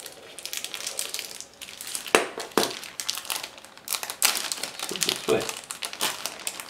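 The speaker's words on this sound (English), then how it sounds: "So we would open this with a knife." Plastic packaging of a Meng 1/32 Me-163B Komet model kit is cut and torn open with a knife, giving irregular crinkling, crackling and sharp snapping bursts at close range.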